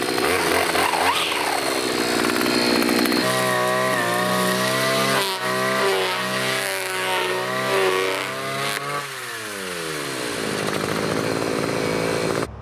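A string trimmer's small two-stroke engine whines at high revs cutting grass, its pitch rising and falling as it cuts, then sputters and drops near the end.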